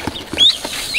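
Small chicks cheep and peep in short high chirps under a heat lamp, several quick calls close by over faint soft clucking noises.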